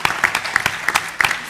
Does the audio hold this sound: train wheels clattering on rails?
no